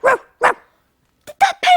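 A toy pencil case barking like a small dog: two short loud barks, a pause, then three quicker yips, close and clear with no talk over them.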